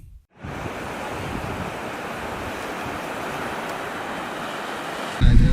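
Sea waves wash steadily onto the beach at Honnavar, Karnataka, a loud continuous roar of surf mixed with wind buffeting the microphone, with no voices.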